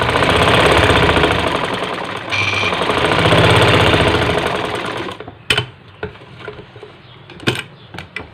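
An electric sewing machine stitches a curtain, running in a loud steady whirring drone for about five seconds, then stopping, leaving a few scattered clicks and fabric handling noises.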